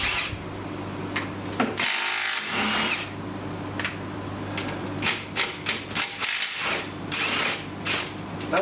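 A small power tool rattles in repeated short bursts as it undoes bolts on the base of a man-cave table, with brief pauses between the buzzing runs.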